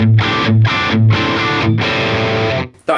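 Electric guitar through a Friedman BE-OD amp model on a Line 6 Helix, giving a high-gain Marshall-style tone: loud, saturated chords ring out in four strummed bursts with short gaps, then cut off near the end.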